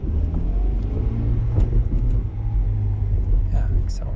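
A car engine revs and pulls under acceleration during a clutch test, a steady close rumble that runs throughout while someone talks over it.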